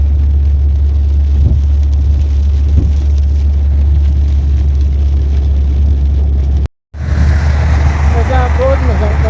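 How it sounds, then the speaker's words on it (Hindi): Loud, steady rumbling wash of heavy rain in Medina mixed with a low engine drone, broken by a brief silence before resuming with faint voices. "मदीना शरीफ में तेज बारिश।"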